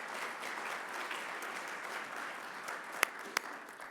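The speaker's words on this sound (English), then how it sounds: "Can we all give a round of applause to those three?" Applause from an audience at an agriculture and trade event, a steady wash of many hands clapping at moderate distance, with two sharper, louder claps standing out near the end.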